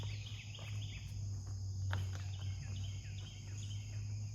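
Crickets chirp steadily and faintly outdoors at a DIY lean-to shed build site, a continuous high trilling over a low steady hum, with no talk.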